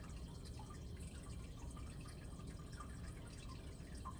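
Bubbles fizz steadily from a chemical reaction in a test tube, a faint continuous crackling hiss with tiny scattered pops and no talking.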